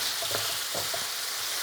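Sausage browns in a pan over medium-high heat, giving a steady, dense hiss of frying with a few soft pops and stirring clinks close by.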